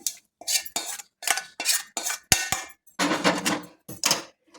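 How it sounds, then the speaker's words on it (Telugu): Grated coconut curry is mixed by hand in a bowl, giving a series of short, close, squelching and rustling bursts separated by brief pauses, with a couple of sharp clinks partway through. "ఇప్పుడు చేతితో కలుపుతున్నాను"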